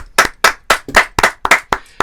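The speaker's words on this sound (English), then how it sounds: "Do you want to like round of applause, Callum?" Eight sharp hand claps in a steady, fairly quick rhythm, close and loud, with no talking.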